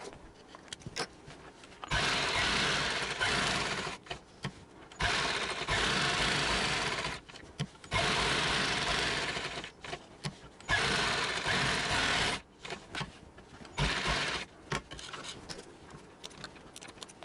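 Sewing machine stitching a designer sleeve, running in several loud bursts of rapid whirring and needle clatter separated by short pauses where the fabric is turned.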